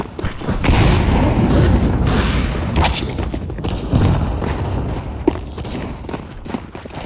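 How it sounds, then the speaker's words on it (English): A grenade detonates in Counter-Strike 2 amid a busy firefight, a loud booming blast with rumbling low end, surrounded by gunfire and thuds that continue throughout. "I'm throwing a grenade"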